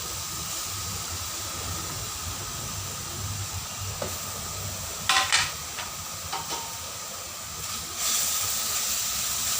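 Grated apple fries in a kadhai over low heat, giving off a steady, fairly loud hiss and sizzle. A few clinks and scrapes of stirring break through the frying.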